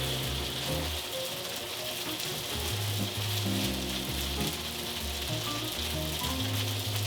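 A vegan Salisbury steak is laid into a lightly oiled pan and gives off a steady, even sizzle that lasts throughout, with a low tonal background underneath.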